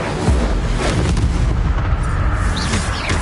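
Incendio fire spell cast in the wizarding game Hogwarts Legacy, heard as a loud, dense roar of booming bursts and crackling blasts that runs unbroken through the moment, with a few brief magical tonal sweeps near the end.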